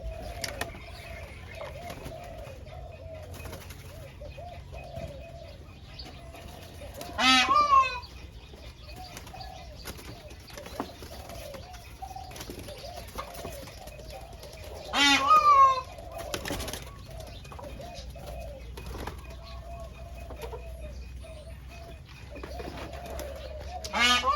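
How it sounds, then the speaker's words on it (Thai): A peacock calls loudly three times, spaced several seconds apart, against a quiet outdoor background of softer bird sounds in the evening. "เสียงนกยูงนะครับ ใครไม่เคยได้ยิน"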